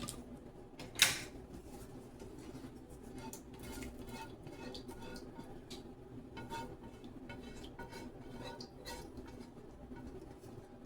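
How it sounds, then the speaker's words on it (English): Sauce is mixed into mostaccioli pasta in a pot: a faint, steady run of soft scraping and wet clicking, broken near the start by one louder metallic clank. "I'm going to mix all my sauce into my pasta"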